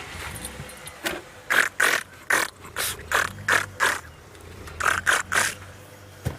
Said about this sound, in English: that takes 47 photographs every time he pushes the shutter down